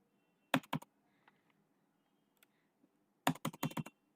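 Computer keyboard keys typed in two quick bursts of clicks, close and crisp, separated by a quiet pause with a few isolated taps.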